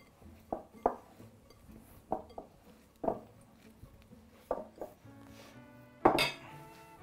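Rested, risen pastry dough dug out of a bowl, heard as a series of soft knocks and clinks of a utensil against the bowl, spaced irregularly and fairly quiet, with a sharper clatter near the end.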